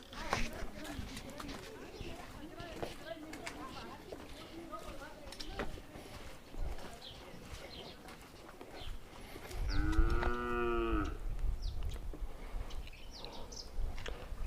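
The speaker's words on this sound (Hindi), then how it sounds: "शायद सामने कोई जानवर भटक गया है और सब तरफ सन्नाटा पाकर उसे ही रंभाना पड़ रहा है।" A stray cow in a quiet Uttarakhand village lets out one long, wavering moo partway through, moderately distant, over faint outdoor ambience with scattered small bird chirps.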